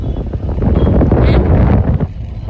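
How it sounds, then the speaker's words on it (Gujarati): Cool wind gusting steadily across an outdoor microphone on a cloudy, rainy day near a canal, a broad low rumbling roar that stays loud and then eases slightly near the end. "ઠંડો ઠંડો પવન આવે."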